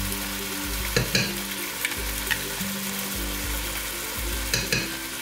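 Chicken curry in masala sauce sizzles steadily in a frying pan as it is stirred, with a few louder scraping clatters of the utensil against the pan.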